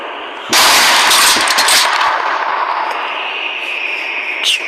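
A gun goes off in a loud burst that breaks a quiet background and rolls into a long, reverberant rumble fading over several seconds, with a small clatter near the end and no talking.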